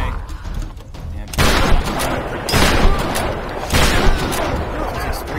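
Three heavy shotgun blasts from the Tomb Raider video game, each a loud broadband burst spaced about a second apart, after a stretch of quieter game ambience.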